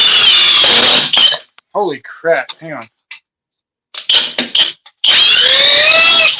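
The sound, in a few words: Craftsman power drill running under load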